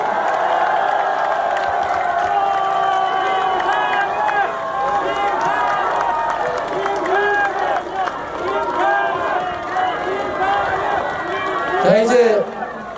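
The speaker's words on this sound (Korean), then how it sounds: "박수로 환영해 주십시오." A large outdoor crowd at a political campaign rally in Jeonbuk cheers, whoops and claps in a steady, dense roar to welcome a politician, with voices shouting throughout and a louder swell near the end.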